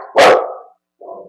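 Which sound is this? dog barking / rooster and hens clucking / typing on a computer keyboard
dog barking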